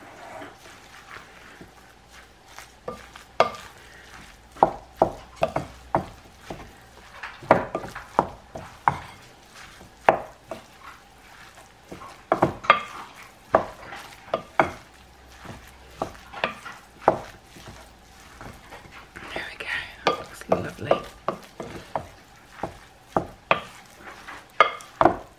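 Pork and chorizo burger mixture is stirred and pressed in a bowl, giving irregular close wet slaps and thuds at an uneven rhythm, no voices.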